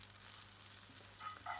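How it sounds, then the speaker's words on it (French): Butter sizzles and crackles steadily in a hot frying pan, a close, fairly quiet frying hiss that runs alone for under two seconds. "Mettons du beurre dans la poêle."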